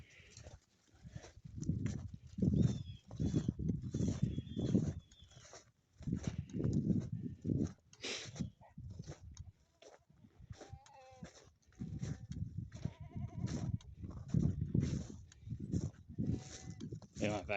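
Goats in a farm yard bleat now and then at close range, mixed with someone talking over them throughout.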